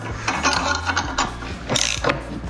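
Tight flange bolts being loosened on a VW T4 Syncro propshaft, heard as close metallic ratchet clicks and clunks in short uneven bursts, with no voices.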